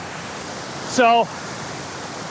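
Waterfall on Vancouver Island heard up close as a steady, broad rushing hiss of falling water, continuous throughout, with someone speaking a single brief word over it.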